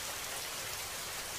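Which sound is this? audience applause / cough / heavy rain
heavy rain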